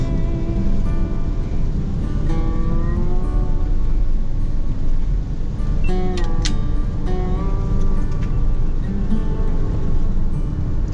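A Toyota Innova diesel drives along the trans-Sumatra highway between West and North Sumatra, its engine and road noise forming a loud, constant low rumble with faint tonal whines drifting over it.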